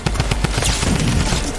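Rapid automatic gunfire in a video game, a tight burst of close, loud shots for roughly the first half, then fading into a thinner, noisier tail.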